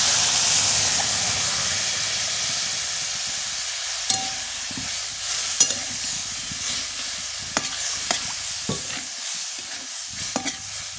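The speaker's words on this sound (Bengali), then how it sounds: "এবার সিদ্ধ করার জন্য জল দিয়ে দেবো।" Water poured into a hot pan of Malabar spinach curry hisses in a loud, steady burst, then settles into quieter sizzling broken by scattered clicks of stirring.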